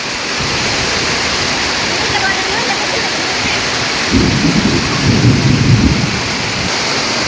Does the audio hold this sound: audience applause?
no